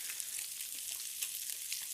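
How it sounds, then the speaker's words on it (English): Soy-glazed salmon fillet sizzling in a hot frying pan, a steady soft hiss of frying fat with faint crackles, heard close and alone. "I definitely need sizzle, but just not too much,"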